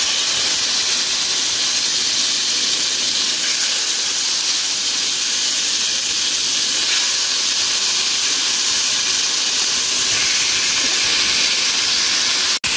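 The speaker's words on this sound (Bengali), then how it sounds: "এখন আমি মাছ দিয়ে দিচ্ছি।" Pieces of buffalo fish sizzle loudly and steadily in half a cup of hot oil in a frying pan with seeds, a dense continuous hiss with no talking.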